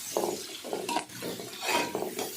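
Garlic frying in about a hundred grams of hot oil for curry leaf stew, soft crackling bubbles broken up by a utensil stirring and scraping the pan in short repeated strokes, close and fairly quiet.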